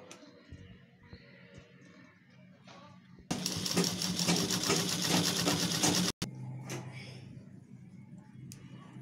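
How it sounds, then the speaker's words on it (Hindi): A sewing machine stitches a seam on a ladies' purse in one loud, steady whirring run of about three seconds, framed by quieter rustling and handling before and after. "एक सिलाई यहाँ से कर लेंगे।"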